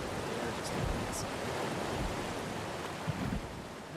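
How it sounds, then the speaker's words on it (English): Waterfalls in the video game Ark: Survival Evolved on the Valguero map send out a steady, dense roar of rushing water that holds even and unbroken, with faint brief sounds flickering through. "I love all the waterfalls on Valguero."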